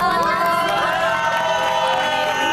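Studio audience on an Indonesian TV talk show cheers and claps loudly for an arriving guest, a sustained dense crowd roar with whoops and shouts lasting throughout.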